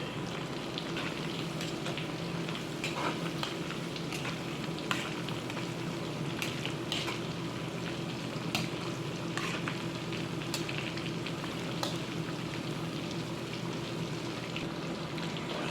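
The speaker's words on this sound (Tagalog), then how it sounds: "Tanging luto ng shrimp. Ayan, wait po natin uli for about 5 minutes at luto na rin po agad yan." Shrimp frying in hot oil in a home kitchen, a steady dense sizzle with scattered pops and crackles, continuous and close, with no talking.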